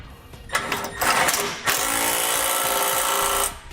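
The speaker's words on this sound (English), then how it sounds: "I'm going to come back with a 17mm socket and I'm going to tighten up these bolts on each side." Power tool driving a 17mm socket to tighten the bolts on a Roadmaster crossbar-style base plate bracket on a 2018 Jeep, a short burst followed by a steady, close whirring run lasting a couple of seconds with no talk.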